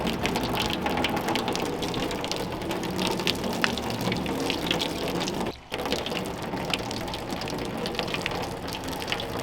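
Water pours and splashes over a car's freshly coated paintwork to mimic heavy raindrops, a steady dense gushing patter with a brief pause midway, close and continuous.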